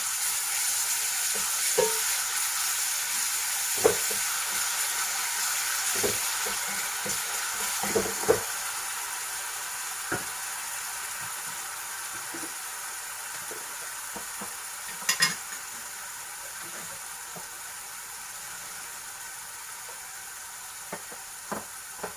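Ginger garlic paste gently frying on a slow flame, a soft steady sizzle running throughout with occasional scraping stirs and light utensil taps, no voices.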